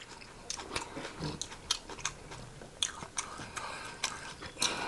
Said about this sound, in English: there's some crunchy, crunchy lettuce here